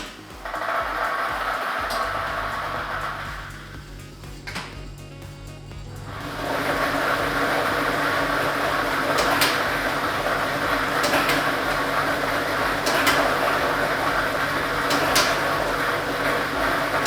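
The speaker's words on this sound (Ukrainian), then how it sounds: "І ми вмикаємо лототрон." A lottery ball drawing machine runs during a state lottery draw, starting with a click and a brief lull before a steady loud whirring roar with faint ball clatter and occasional sharp ticks.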